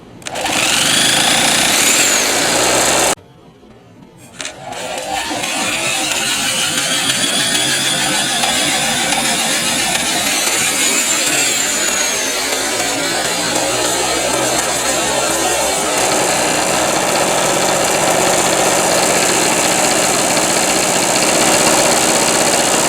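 A Harbor Freight Storm Cat 2-cycle generator engine, spun up with a drill for starting and diagnosis, runs loud and close with a steady buzzing drone, cuts out briefly near the start, then picks back up and keeps running.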